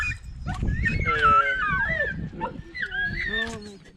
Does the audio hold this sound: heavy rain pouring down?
no